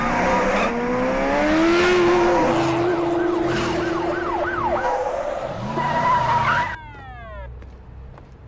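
A car tears away in a street chase, its engine roaring alongside tyre squeals and a wailing siren that sweeps up and down, loud and close, ending with a few fast rising whoops.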